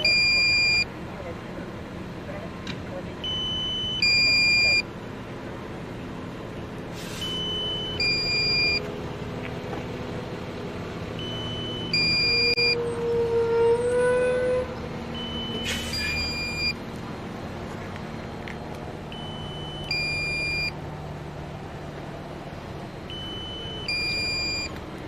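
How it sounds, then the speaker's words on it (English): A police drone hovering over a barricaded-suspect scene sounds repeated paired high electronic beeps as its battery runs low, recurring every few seconds over steady street and traffic noise, with someone talking beneath. "We have a lot of our drone making a lot of beeping noise"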